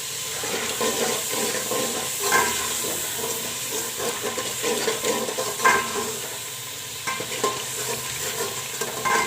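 Masala for aloo baingan frying in oil in a pan, giving a steady close-up sizzle with scraping stir strokes at intervals.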